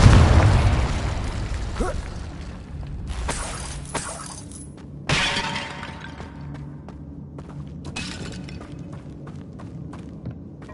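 Spell blasts in the Hogwarts Legacy video game: several sharp explosive bursts and shattering crashes spaced over several seconds, with one strong boom in the middle and quieter debris and crackle between the hits.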